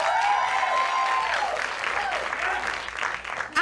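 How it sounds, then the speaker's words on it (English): Audience at a stand-up comedy show clapping in a loud, dense burst that runs nearly four seconds, with faint voices mixed into the crowd noise. "Clap if you have tattoos."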